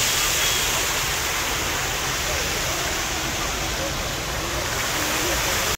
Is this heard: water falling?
yes